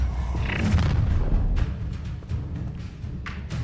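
A fiery spell burst in Hogwarts Legacy gameplay: a loud whooshing boom of flame amid dense battle rumble, followed by sharp crackling flares and impacts.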